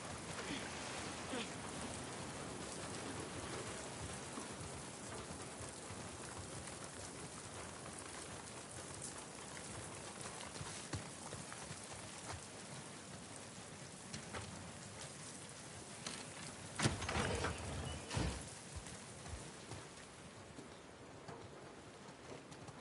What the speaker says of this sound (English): Get out of the rain.